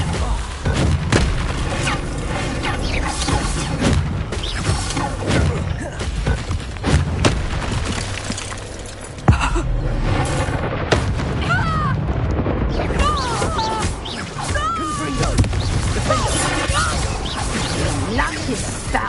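A Confringo explosion spell goes off in the Hogwarts Legacy video game, a booming blast with thuds and crashing debris amid dense game music and effects, with talk over the action.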